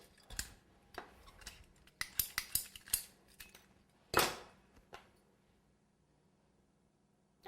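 Scissors snipping through a wooden skewer for a fondant cake crown, several sharp close clicks and snips in quick succession, then one louder crack, in a quiet room.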